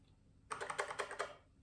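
A quick burst of about six key presses on an IBM 3270 compatible terminal keyboard, an Informer 207 376/SNA, crisp, close clacks in fast rhythm after a brief quiet lead-in.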